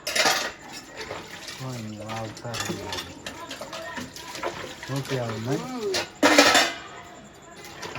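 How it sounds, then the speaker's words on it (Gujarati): Dishes and utensils are washed by hand at home, with clattering metal, clinks and splashing water close by, while people talk over the work. "ચાલો ગાઈસ તો વાસણ ધોવાય છે હવે."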